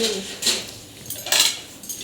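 Metal utensils are set down and arranged, producing a few distinct clattering clinks and scrapes in separate bursts, close and fairly loud, with no talking.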